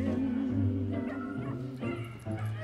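A dog gives a few short yips and whimpering barks against busy background sound, uneven and moderately loud.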